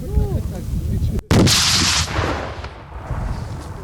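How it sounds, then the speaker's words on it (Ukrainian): A sharp, loud gunshot cracks once, echoing briefly before fading into rumbling background noise. "Постріл!"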